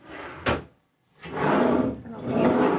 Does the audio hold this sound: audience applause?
no